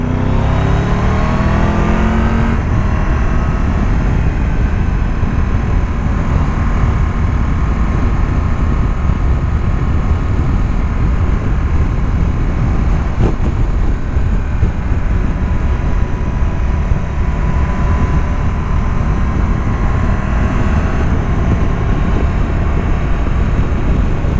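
A Triumph Tiger 1200 GT motorcycle accelerates hard uphill, a loud continuous engine roar with wind rush, climbing in pitch through the gears and holding a strong sustained drone.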